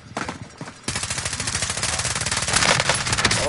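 Rapid automatic gunfire from an MP7 in Call of Duty Warzone, dense bursts of shots that grow louder and more continuous over a few seconds.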